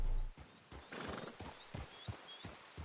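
Horse hooves clip-clopping in a steady rhythm with a whinny in Red Dead Redemption II, fairly faint and close, with no talk over it.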